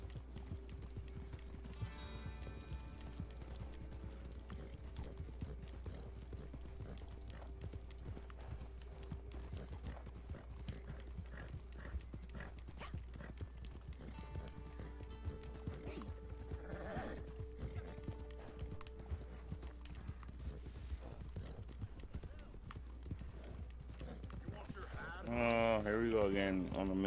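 Steady galloping horse hoofbeats from the video game Red Dead Redemption 2 run under people talking through most of the stretch, with a brief louder burst near the end.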